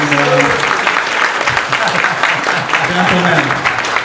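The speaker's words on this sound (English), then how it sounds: "Everyone, big round of applause from the" An audience at a software panel Q&A gives a round of applause, steady dense clapping throughout with a voice speaking over it.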